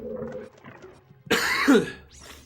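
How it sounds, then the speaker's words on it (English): A single harsh cough bursts out close by after a quieter stretch of low background murmur, followed by a brief rasping tail. "Sorry, this cough."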